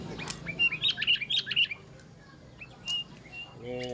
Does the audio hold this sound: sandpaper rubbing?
no